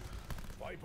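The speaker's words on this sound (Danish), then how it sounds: "Jeg kan måske bare lige skyde nogle zombier." Brief, faint gunfire while shooting zombies in Call of Duty: Black Ops, a quick burst of shots mixed with a voice talking over the game.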